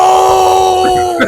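A person screaming, a loud sustained high-pitched cry held steady, breaking off with a short vocal burst at the end.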